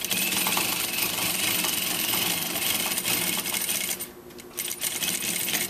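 A sewing machine runs steadily, stitching the reinforced corner of a clutch bag seam at a half-inch allowance, with a brief pause near the end before the motor resumes at a loud, continuous whir.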